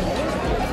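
A dense crowd of pilgrims at the Dwarkadhish temple, with a continuous babble of many overlapping voices close by.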